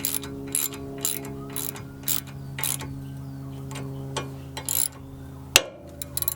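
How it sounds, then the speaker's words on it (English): A socket wrench ratchets in quick repeated clicking bursts as a bolt is screwed into a brake rotor to force it free, ending in a sharp single pop; close and fairly quiet, with no talk. "just grab the right sized socket and just screw it in, and you'll hear it pop free"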